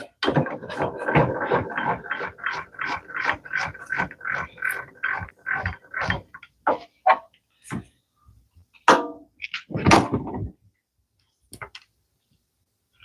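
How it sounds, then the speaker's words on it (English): A saw blade on a TV stand build is tilted over to a 45-degree bevel, producing a quick run of close ratcheting clicks, then scattered clunks and a final knock as it settles into place. "So let me go ahead and bevel the saw over to 45 first."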